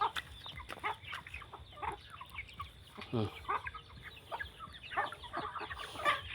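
Free-range farm chickens cluck repeatedly in short bursts across the yard, with several birds calling near and farther off amid steady rural background noise.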